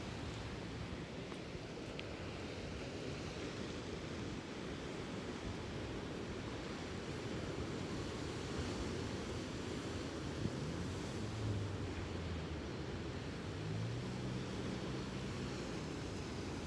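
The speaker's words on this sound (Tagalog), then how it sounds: "The sound of the waves." Ocean waves roll onto a Lake Michigan-side shore at Sheboygan as a faint, distant, continuous surf wash blended with wind noise, with no talking.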